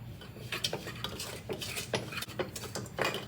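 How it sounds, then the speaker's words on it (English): A metal whisk beats sugar into eggs in a bowl over a double boiler for a pavlova, giving rapid, busy clinking and scraping against the bowl. The sound is close and continuous, with no speech. "So this is a double boiler, and you'll be whisking your sugar into your eggs so it melts."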